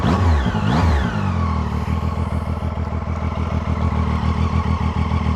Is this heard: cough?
no